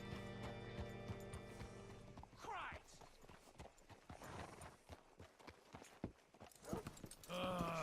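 Horse hooves in the video game Red Dead Redemption 2 clip-clop at an easy walking pace, steady and fairly close, with a voice and some background tones around them.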